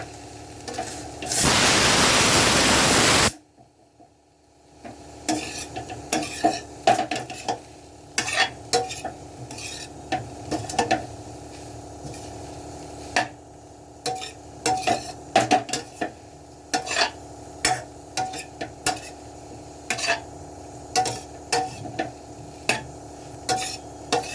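A spoon repeatedly scrapes and stirs cauliflower sabzi in a pan after red chili and coriander powder go in. The metallic clinks are irregular and sharp over a quiet sizzle, with a burst of loud hiss near the start.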